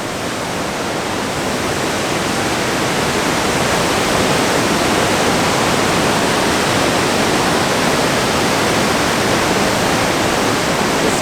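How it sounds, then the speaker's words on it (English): A waterfall at Mogamen on a Northern Europe hiking route roars loudly and continuously up close, a dense steady rush of falling water with no voices. "We're at our first waterfall in Mogamen"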